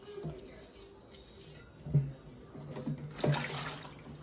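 Rice-washing water tipped out of a pot in a home kitchen, a soft splashing pour with a few bursts over a couple of seconds, fairly faint beneath low background noise.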